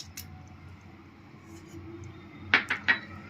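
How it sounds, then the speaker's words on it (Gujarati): Three quick clinks of ice cubes dropping into a blender jar with chikoo and sugar near the end, after a fairly quiet stretch. "બળફના ટુકડા એડ કરશું આપણે"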